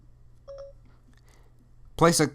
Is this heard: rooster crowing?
no